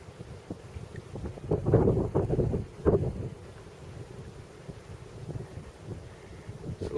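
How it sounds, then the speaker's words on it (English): North wind gusting over a creek in Kentucky, a rough rumbling buffet that swells for a few seconds and then settles into a steady low rush. "A little bit windy today"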